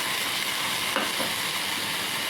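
Vegetables such as carrot pieces frying in a pan give a dense, even sizzle that holds steady throughout, close by, with a faint scrape near the middle and no talking.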